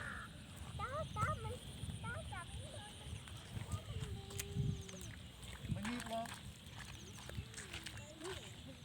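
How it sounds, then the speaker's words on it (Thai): Crows cawing repeatedly in short harsh bursts outdoors after rain, waiting near the water to eat surfacing fish, heard alongside steady background noise and a voice. "ดูอีกามันรอมากินปลา"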